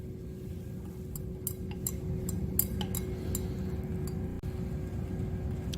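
Glass clinks and taps ring out as a solution is stirred in a glass lab beaker on a hot plate, with a cluster of bright strikes in the middle seconds over a steady low hum.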